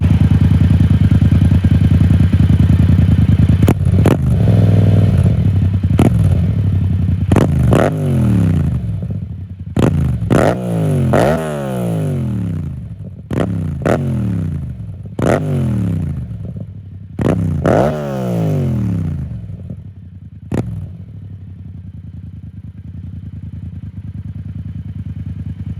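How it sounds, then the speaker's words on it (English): Yamaha MT-07 motorcycle with an Akrapovic exhaust idles loudly, then is blipped through a series of sharp revs that rise and fall back, roughly nine throttle bursts in quick succession close to the bike. "I might as well give you guys a few revs."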